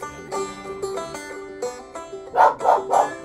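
A dog barks three times in quick succession near the end, loud and close, over a background of steady music with sustained tonal notes.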